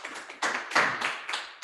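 Church congregation clapping hands, a few short bursts of sharp claps with brief pauses between them, fairly close and with no talking.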